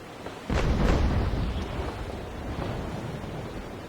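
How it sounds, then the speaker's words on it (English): Ship's chase guns firing cannon shots at an enemy ship's sails in the naval game Naval Action: one heavy booming blast that rolls off slowly into a long rumble over steady wind and sea noise, fairly loud and with no talking. "I'm using my chase guns to try and damage his sails as much as I can"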